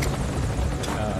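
The helicopter in Metal Gear Solid V: Ground Zeroes drones close and loud, its steady rotor roar filling the brief moment as a continuous wash of noise.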